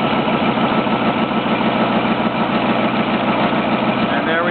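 Hydraulic system running with a steady, loud mechanical hum and vibration, an even continuous drone that holds without change throughout, with a voice talking over it.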